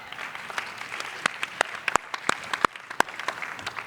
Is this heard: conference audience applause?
yes